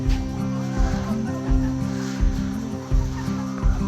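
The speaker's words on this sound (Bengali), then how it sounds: "ডিম পাড়া মুরগি" Laying hens on a chicken farm make a dense, close chorus of clucks and squawks that swells in short repeated bursts over a constant low mechanical hum.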